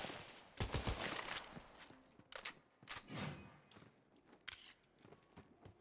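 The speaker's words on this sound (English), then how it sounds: "Is it a burst? Yes, it's a burst." Gunfire from a weapon set to burst mode in the video game Tiny Tina's Wonderlands: several sharp, loud multi-shot bursts spaced irregularly across the clip, each a quick cluster of cracks with a short decaying tail.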